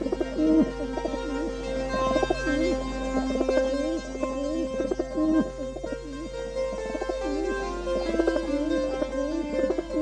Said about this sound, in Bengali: এই 5টি পায়রা এত ঠান্ডায় কি সুন্দর লাগছে